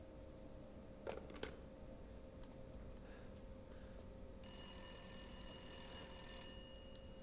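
Telephone ringing inside a horror video game set in a doll house, faint and quiet with a few brief chimes early and a steadier electronic ring near the end, no voices.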